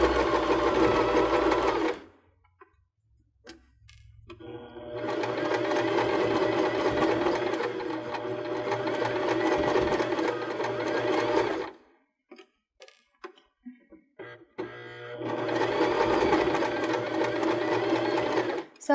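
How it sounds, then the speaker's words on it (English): Baby Lock BL9 sewing machine with a zipper foot stitching pom-pom trim along a raw fabric edge, running in three close, loud bursts of steady rapid whirring separated by pauses with small clicks and handling. "try to keep the edge of the pom-poms in line with that raw edge as you sew"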